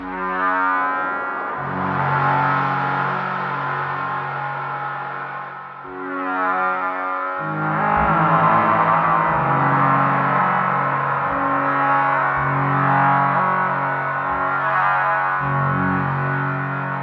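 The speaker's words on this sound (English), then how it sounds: "Something about that reverb is so ringy." A sustained synthesizer tone in a techno setting rings with a heavy, metallic reverb, swelling and shifting in pitch across several held chords with a dense, buzzing wash and no talk.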